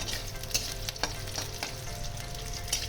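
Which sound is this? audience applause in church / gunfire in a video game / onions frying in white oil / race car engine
onions frying in white oil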